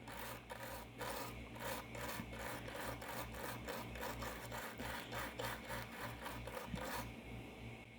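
Pads on a Samsung SM-G610M phone circuit board are cleaned of excess solder with a steady, rhythmic scraping and rubbing that runs for about seven seconds over a constant low hum, then stops.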